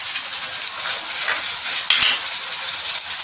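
Cumin seeds hit fried golden onions in a pan, making a loud, steady, close sizzle. A single small clink sounds partway through.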